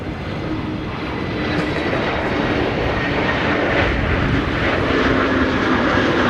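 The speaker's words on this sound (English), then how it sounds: "EasyJet flight 27840 arriving from London Stansted. It's an A320neo." An EasyJet Airbus A320neo jet arriving at Amsterdam Schiphol in high storm winds roars steadily and fairly loudly, its broad engine noise building slightly as it nears.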